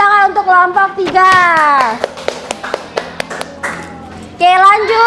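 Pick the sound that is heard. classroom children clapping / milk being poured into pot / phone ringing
classroom children clapping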